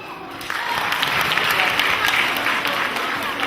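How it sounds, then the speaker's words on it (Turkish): Audience applause for children leaving the stage at a school performance, a dense, steady wash of clapping rising after a brief softer start and holding loud throughout. "Evet, alkışlarla çocuklarımızı sahneden gönderiyoruz"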